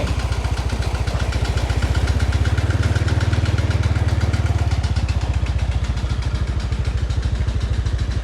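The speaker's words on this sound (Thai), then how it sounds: "เครื่องดูดน้ำไม่ใช่เครื่องปั๊มน้ำใช้เครื่องเหมือนเครื่องรถ" Engine-driven water suction pump in a rice field chugs at close range, a steady rapid thumping engine rhythm with clattering overtones that holds constant throughout.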